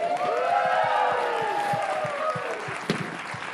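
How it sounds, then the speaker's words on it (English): Applause from an audience at a film challenge awards event comes through fairly softly beneath a gliding musical jingle. Scattered claps repeat in a loose rhythm, with one sharper hit near the end. "That was probably applause for we're feeling sorry for her."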